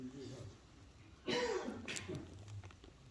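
A preacher coughs during a sermon: two sharp, close coughs in quick succession, then a quieter stretch, with speech on either side.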